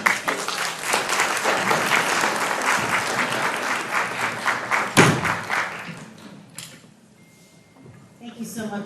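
Audience applause fills a ceremony hall for an award recipient at an elder-care gathering, steady dense clapping for about five seconds, then thinning out as a voice begins speaking.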